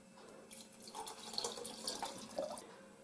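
Honey water is poured into a three-liter glass jar of beet pieces to fill it, a light splashing, trickling pour with small drips, close and alone without talk.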